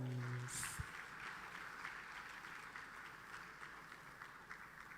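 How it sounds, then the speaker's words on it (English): Steady, fairly faint audience applause for guests of honor at a trade awards closing ceremony gala in Ghana. It sounds distant and sustained, after a brief tone at the very start. "Please, another round of applause."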